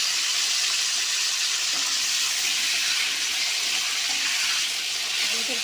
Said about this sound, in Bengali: সাদা তেল দিয়ে দিলাম আলুগুলো দিয়ে দেবো লাল লাল করে ভেজে নেবো আলুগুলো